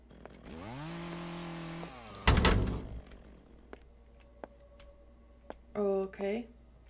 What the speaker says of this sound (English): Someone's got a chainsaw.